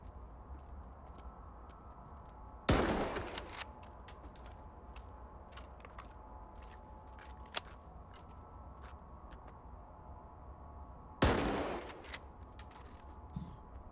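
Two sharp, loud gunshot bursts ring out in the Stalker 2 video game, several seconds apart, over a low steady background with a few faint clicks between them.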